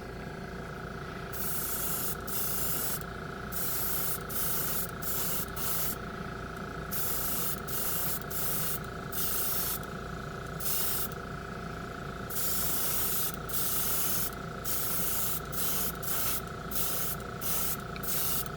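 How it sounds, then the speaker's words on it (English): A $70 airbrush sprays paint onto a Gunpla model piece, giving a quiet, steady hiss broken by short on-off bursts as the trigger is worked. "Let's go ahead and spray the Gunpla piece."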